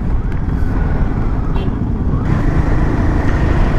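A car cruising in sixth gear at about 110 km/h on a road trip toward Ooty, giving a constant loud rush of engine and road noise with a steady wind roar throughout.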